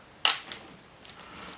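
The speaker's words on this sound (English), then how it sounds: "You have to press your shutter" A single sharp mechanical click of a camera shutter pressed to lock up the mirror for sensor cleaning, close and crisp, followed by faint soft handling ticks.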